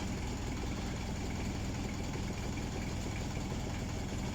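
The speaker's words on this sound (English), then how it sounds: "let's just turn the engine off now" A miniature railway locomotive engine idles nearby with a steady low rumble and rapid chugging vibration, loud and unbroken, at Scarborough North Bay Miniature Railway.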